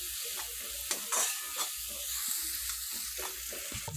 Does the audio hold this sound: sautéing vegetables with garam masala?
yes